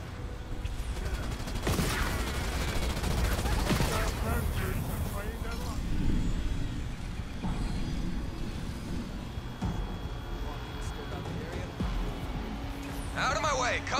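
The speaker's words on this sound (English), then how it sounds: "Nothing like a firefight to shake up the cobwebs!" Gunfire and explosions in a firefight from the Halo Wars 2 video game, dense booming bursts and mechanical clatter under game voices talking throughout.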